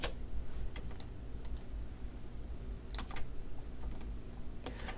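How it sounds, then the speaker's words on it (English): A few sharp computer keyboard key clicks, including an Enter press, sound against a steady low room hum while a torso model is being edited in 3D software; the taps come sparse and irregular, close and fairly quiet. "Go ahead and click enter."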